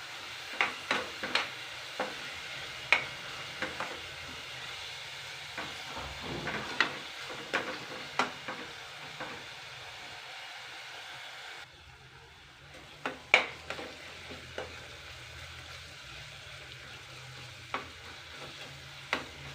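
Onion pieces and curry leaves fry quietly in a pan for chicken curry, a low steady sizzle punctuated by repeated spatula knocks and scrapes against the pan.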